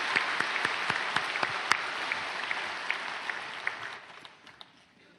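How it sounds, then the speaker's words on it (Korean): Applause from a church congregation at a special dawn service, a broad crackle of many hands with some louder individual claps, thinning and fading away toward the end. "박수하겠습니다."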